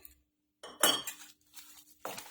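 A spoon stirs instant dhokla batter in a bowl, giving a few short clinking and scraping bursts against the bowl's side, close and fairly quiet, separated by brief pauses.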